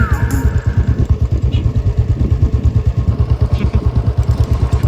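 A Royal Enfield Bullet motorcycle engine runs close by with its deep, steady thumping beat, a loud rhythmic low pulse with some mechanical clatter and no talk over it.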